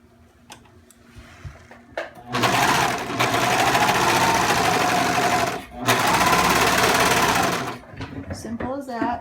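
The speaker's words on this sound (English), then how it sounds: "You can hand sew this or use a sewing machine." A sewing machine runs in two long, loud bursts of rapid stitching with a brief pause between, with quiet clicks and handling before and after.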